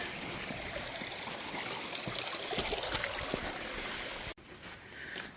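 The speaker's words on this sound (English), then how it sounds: "the water is flowing" Steady wash of a stream flowing across a coastal hiking trail, a continuous close rushing and trickling texture that briefly cuts out near the end, then returns.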